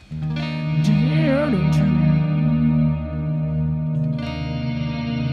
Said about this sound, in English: with the Ionosphere reverb, basically we just run through some chords